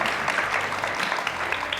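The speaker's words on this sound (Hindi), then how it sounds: "तालियां" A television studio audience on a Pakistani entertainment show claps after a cooking segment, giving a full, steady burst of applause that stays even and close from start to finish.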